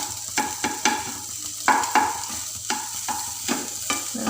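A spoon stirs and scrapes egg bhurji in a hot pan in a quick, regular rhythm of knocks and scrapes over a soft continuous sizzle.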